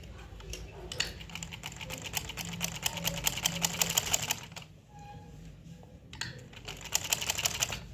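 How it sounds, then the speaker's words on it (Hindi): A sewing machine stitches the fly of a pair of trousers while a zip is set in, fast rattling bursts of needle strokes broken by a short pause before running again. "इसको इस तरह से रखेंगे और इसमें सिल देंगे"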